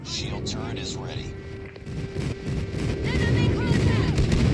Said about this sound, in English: Friendly airstrike incoming.